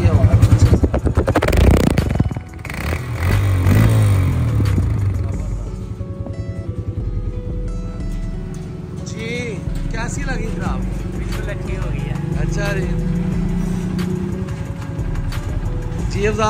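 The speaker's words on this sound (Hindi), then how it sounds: "और अब हम आपको इंजन की आवाज़ सुनाते हैं पहले।" A Honda 150cc motorcycle engine idles and revs loudly up close, rumbling with rising and falling pitch, while people talk over it.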